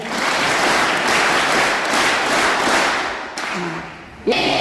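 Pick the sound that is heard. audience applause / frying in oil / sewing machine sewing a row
audience applause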